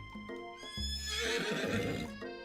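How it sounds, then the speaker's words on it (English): A horse in the Colonel Sanders dating sim video game whinnies loudly in one long, shaky neigh, with a faint clip-clop of hooves around it and no talking. "Colonel Sanders' horse is truly a thing of beauty."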